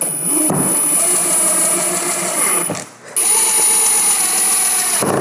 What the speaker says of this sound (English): Screw it down into place.